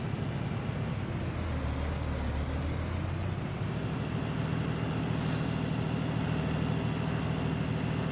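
A dated Hungarian D754 road tractor truck in a video game, its old engine holding a continuous loud, low rumble with a steady drone and a slight shift partway through, no voices.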